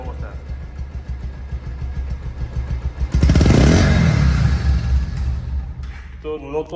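A 2022 Bajaj Pulsar second-hand motorcycle runs close by, its steady engine rumble swelling into a louder rev midway, with someone talking over it near the end.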